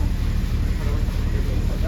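A large ferry boat moves across the water with a dense, steady roar of engine and wind noise filling the whole stretch.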